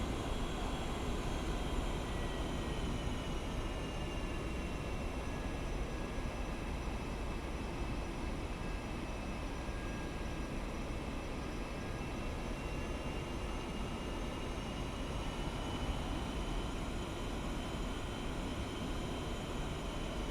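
A-4E Skyhawk jet in a flight simulator, taxiing slowly across an aircraft carrier deck: a steady, even engine roar with a faint high whine holding throughout, no voices.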